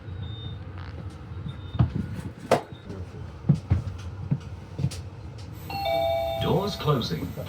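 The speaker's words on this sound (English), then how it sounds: "Doors closing. Please stand clear." Brisbane train door-closing chime at Petrie Station on the Redcliffe Peninsula Line, a bright electronic tone near the end that rises above rumbling carriage noise and clunks, with an announcement voice heard over it.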